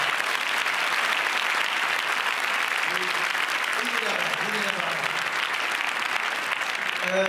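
Applause rises from the audience at the Cannes 2015 festival for Claude Lelouch, a thick continuous wash of clapping with scattered voices and a brief melodic sound surfacing underneath.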